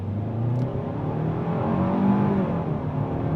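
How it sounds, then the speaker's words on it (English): A 2026 Hyundai Sonata SEL Sport accelerating hard from a standstill, its engine note rising in a steady, fairly loud drone heard from inside the cabin. "Off the line on the gas."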